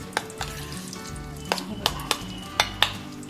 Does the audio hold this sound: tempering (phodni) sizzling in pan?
yes